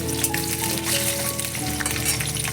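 Halved potatoes sizzle and crackle steadily in a hot pan with salt, a continuous moderately loud frying hiss under background music.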